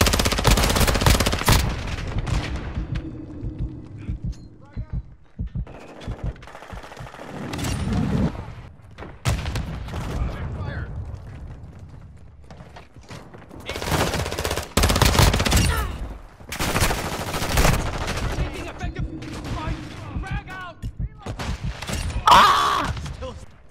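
Grenade explosions and bursts of automatic gunfire erupt repeatedly in the video game Modern Warfare II, loud booming blasts and rapid rattling shots in clustered waves with brief lulls between them.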